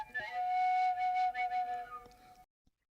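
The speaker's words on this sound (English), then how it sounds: "the shvilpa was beloved by shepherds who used to whistle improvisational melodies" A Lithuanian shvilpa, the folk whistle of shepherds, plays a short melody of sustained clear tones with a few pitch changes, close and fairly loud, ending abruptly after about two and a half seconds.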